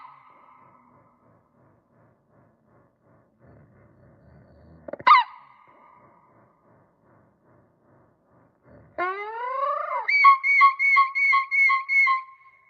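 A mockingbird lets out a quick rising whistle, then a sweeping chirp followed by a rapid series of repeated electronic-sounding beeps, mimicking mechanical tones like a key alarm.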